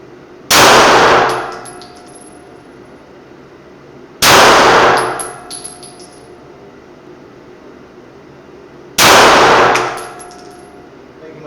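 Three loud, widely spaced pistol shots, each followed by a bright metallic clang and ringing from small steel precision targets at an outdoor range.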